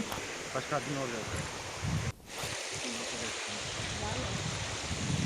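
Steady rushing of a flowing stream at Kemmannugundi fills the scene, with faint voices murmuring underneath and a brief dropout midway.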